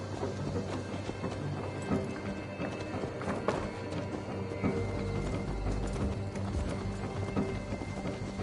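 Horse hooves clip-clop steadily in Assassin's Creed Valhalla, the game's Viking-era mount trotting at moderate loudness amid a dense bed of ambient game sound and music.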